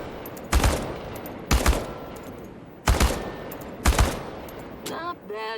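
Four short, loud bursts of automatic gunfire in the shooter Chernobylite, evenly spaced about a second apart, each a sharp clustered crack followed by a brief tail, and a voice at the end.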